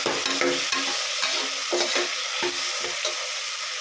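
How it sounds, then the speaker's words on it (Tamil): Potatoes sautéing in a pan while being stirred for a mint pulao, with a steady close sizzle broken by repeated scraping strokes of a spoon. No one speaks. "உருளைக்கிழங்கு போட்டு நல்லா வதக்கிக்கலாம்"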